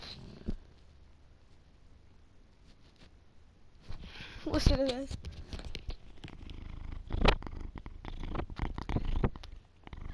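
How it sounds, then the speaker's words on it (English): A soft, steady cat purr rumbles low beneath a person talking close by, with occasional rustles and handling noises. "that purring to my cat in the background"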